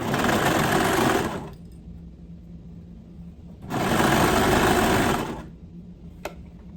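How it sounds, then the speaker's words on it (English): A sewing machine runs in two loud bursts of rapid stitching, stopping for a quiet pause between, with a small click near the end. "So I'm just going to sew in a circle, remove the clips as I go."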